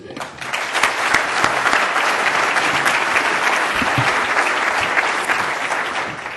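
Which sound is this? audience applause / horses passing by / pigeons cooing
audience applause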